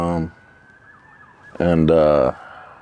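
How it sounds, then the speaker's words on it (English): A faint siren wails in the distance, its tone slowly rising, briefly drowned out by a loud voice. "As you can hear now, the siren is still going from when I was a kid to now."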